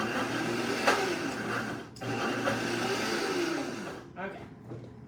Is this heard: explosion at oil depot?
no